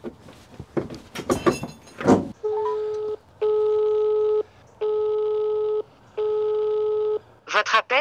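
Telephone call tones on a French line, four steady tone bursts each about a second long with short gaps, following speech and ending with another voice starting.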